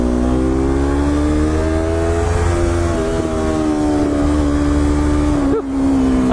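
A Yamaha R3 motorcycle engine droning steadily while riding along curvy roads, with a continuous loud exhaust tone and a brief low gurgle near the end under wind noise.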